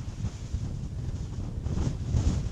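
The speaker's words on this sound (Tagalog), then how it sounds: "Sobrang hangin." Strong wind buffets the microphone in a continuous low rumble, gusting louder toward the end, with no voices, on a mountain loop road in Mabini, Batangas.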